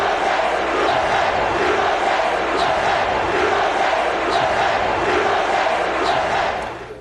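A basketball crowd in Missoula, Montana, reacts to a protest with a loud, sustained roar of voices, shouting and jeering as one dense wall of noise that fades slightly at the end.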